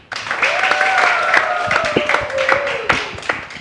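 A group of children claps in an uneven, lively patter that lasts a few seconds, close and fairly loud, with excited voices calling over the applause.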